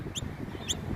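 A mother bird near her nest of chicks gives two short, high chirps about half a second apart over a low rumble of outdoor background noise.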